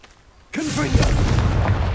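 A Confringo fire spell explodes in Hogwarts Legacy: a sudden loud boom followed by a sustained rumbling roar, with a brief voice sounding just as it goes off.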